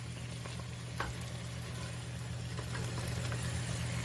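Tomatoes, bacon and garlic frying in hot oil give a steady close sizzle with occasional spoon scrapes and stirring clicks, under a low background hum.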